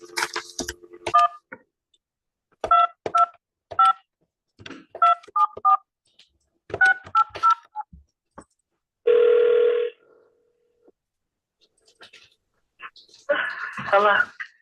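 A telephone number is keyed in on a phone, producing a series of clear, close DTMF tones in short clusters. A longer tone follows, then another burst of tones, with quiet stretches and faint sounds between.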